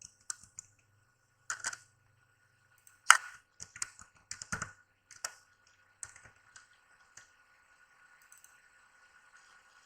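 Keys on a computer keyboard click sparsely and irregularly in a quiet room, in short clusters of taps with pauses between them while text is typed in MS Word 2010.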